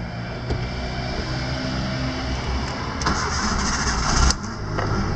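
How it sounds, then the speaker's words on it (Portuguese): A 2009 Ford Ka 1.0 8v Flex car is started, its engine catching near the three-second mark and settling into a steady close idle, with a brief louder burst around four seconds. "Vou ligar o carro para vocês."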